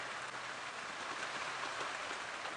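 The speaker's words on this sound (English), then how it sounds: "this rain is really coming down. You might even hear the pitter-patter on the roof" Heavy rain patters steadily on a roof during a sunrise safari drive, a dense, continuous close drumming with no voices.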